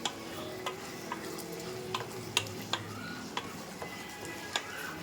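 Tomatoes sauté in a pan for a Tamil tomato kulambu, a soft steady sizzle broken by light, scattered clicks and scrapes of stirring, quiet and close, with no voices.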